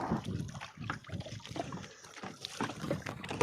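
River waves slapping and sloshing around a small wooden boat in the Sundarbans under a cloudy sky, irregular choppy splashes close by, moderately faint.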